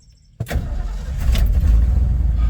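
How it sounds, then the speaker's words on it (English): An old Ford F100 pickup truck engine cranks and catches after a moment of quiet, then settles into a loud, rough rumbling idle close by. "Truck starts up without any gas pedal"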